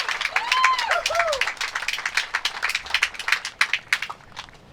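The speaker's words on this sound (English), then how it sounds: "Crowd erupts for one of our top female pros" A crowd at an archery shootoff applauds, dense hand clapping rising and then thinning into scattered claps, with whistles and cheering voices mixed in near the start.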